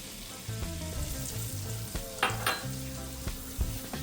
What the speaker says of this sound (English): we're going to add some flour, some all-purpose flour, about 2 tablespoons. And we're just going to make something like a roux.